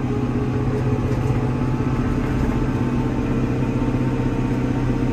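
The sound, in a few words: tractor engine running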